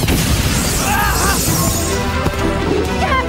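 A loud cartoon explosion attack effect from the animated series Redakai, a continuous crashing burst with bright swooping tones, lasting the whole stretch with no pause.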